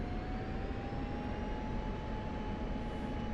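An F-16CM jet engine in the Digital Combat Simulator game, throttled to 90% power with brakes on, makes a steady, dense roar with a thin, constant high whine and no talking.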